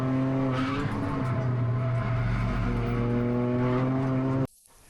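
Race car tyres squealing hard through a corner during a Toyota GR Cup lap, a sustained loud howl over the engine drone that cuts off abruptly near the end, with no talking.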